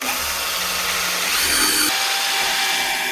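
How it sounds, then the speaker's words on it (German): A power drill drives screws into a new wooden shelf board, two close, loud whirring bursts with a brief pitch change between them and no talking. "Der wird jetzt noch verschraubt."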